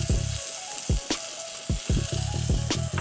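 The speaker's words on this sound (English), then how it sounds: "Make sure my steak is getting a good sear on it." Filet mignon searing in oil in a hot pan, a constant loud sizzle broken by repeated low thumps and knocks of the pan or utensil, close up.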